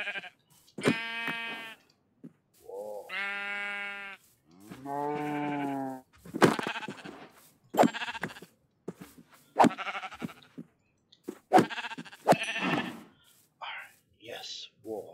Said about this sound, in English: We need sheep.